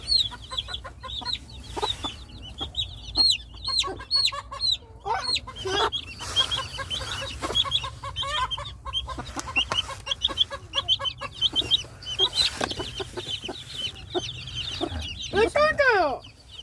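A mother hen clucks repeatedly nearby in a busy farmyard as chicks are placed with her, with soft chirps from chicks and a person speaking intermittently.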